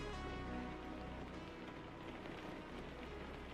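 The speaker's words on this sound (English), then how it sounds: "Love the sound of the rain." Steady rain in the American Truck Simulator video game, a continuous dense hiss of falling drops with a low engine-like hum beneath, constant and unbroken throughout.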